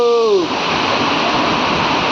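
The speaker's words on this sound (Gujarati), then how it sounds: "જોરદાર વરસાદ ચાલુ છે" Heavy rain pours down as a dense, loud, steady hiss, briefly opened by a short tonal sound before the downpour continues unbroken.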